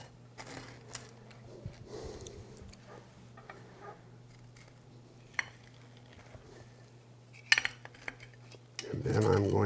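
A knife cuts through a baked chess pie in its dish, with quiet scraping and light clinks against the pan, a few sharper taps, and a louder rustle at the end.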